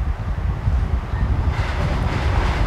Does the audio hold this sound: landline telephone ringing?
no